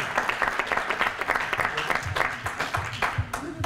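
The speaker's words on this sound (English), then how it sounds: "We deserve a round of applause" Audience applause at a public meeting on decommissioning the San Onofre nuclear power plant, a moderately quiet, steady patter of clapping from the crowd throughout.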